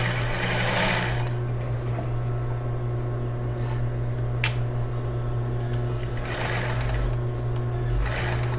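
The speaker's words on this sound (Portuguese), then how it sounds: "Uma costura reta no ponto 4, vou dar um retrocessozinho." A domestic sewing machine runs a straight stitch on a bra, with a steady motor hum and a rapid needle rhythm throughout. There are a couple of faint clicks or brief squeaks, close up, and no voices.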